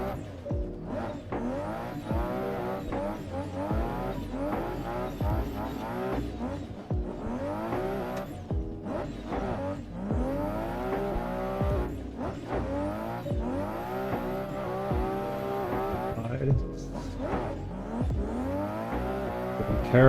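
Turbocharged drift car in the Assetto Corsa sim on Tsukuruma Circuit, its engine revving and bouncing through repeated throttle blips while tires squeal and skid, a dense, continuous loud run with rapid pitch sweeps and no voices.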